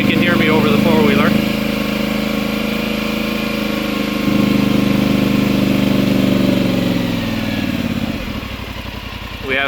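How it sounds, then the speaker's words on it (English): A four-wheeler engine runs steadily nearby on a residential property, a loud continuous mid-pitched drone with slight shifts in revs, heard under someone talking throughout. "I hope you can hear me over the four-wheeler."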